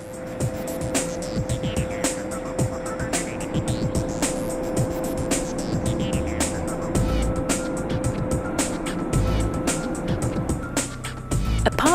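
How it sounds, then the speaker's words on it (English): Heavy salt-mining machine running underground in a salt mine, a steady loud mechanical drone with a constant hum, grinding rumble and recurring clanks, continuous throughout without speech. "This machine is as strong as a Formula One car and extracts around 200 times as much salt as a miner could bring to the surface 50 years ago."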